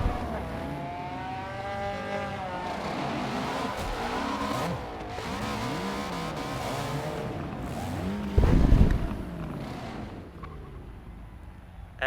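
TCR race cars cross the finish line at Road America during a Michelin Pilot Challenge round, engines droning loudly and continuously with rising and falling pitch as cars pass, and a sharp louder burst near the end.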